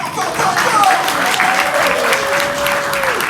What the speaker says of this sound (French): Et on les applaudit fort